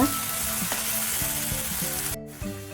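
Onion and tomato sautéing in oil for a horse gram curry: a dense, continuous frying sizzle, close and steady throughout, with a few faint stirring touches and no voices.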